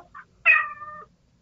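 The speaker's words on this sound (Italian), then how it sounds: "è la Mimì che miagola" A house cat gives one clear, close meow after a brief softer chirp, the main call rising and then held for about half a second in an otherwise quiet room.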